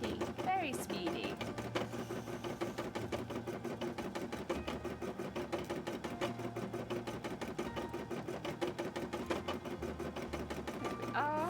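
An embroidery machine stitches in a fast, steady mechanical rhythm of close, repetitive clicks and whirs throughout, with faint voices now and then over it.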